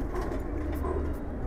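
A Giribaz tournament-flying pigeon, a khaki-patterned male, coos softly in low, throaty rolling pulses, close by and continuous through the moment, with faint background hum.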